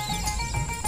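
Horse hooves clip-clopping along a street in a Hindi animated comedy story, a steady fairly close rhythm of hoof knocks over a busy music and effects bed, brief and without talk.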